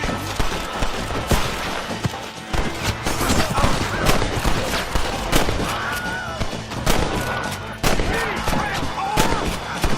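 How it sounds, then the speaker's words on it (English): Rapid gunfire in the Red Dead Redemption video game, a loud, dense barrage of overlapping shots and cracks near an outlaw's house, continuous for the whole stretch with voices shouting underneath. "Stop shooting at me!"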